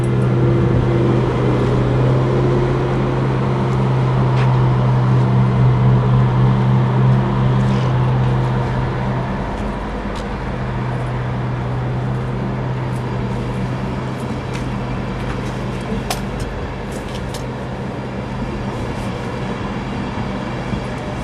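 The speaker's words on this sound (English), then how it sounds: "this is an Edinburgh train that does not call at Doncaster" Passenger train bound for Edinburgh running through a station without stopping, a loud sustained rumble and drone that swells, then eases into a steadier roar with faint rail clicks.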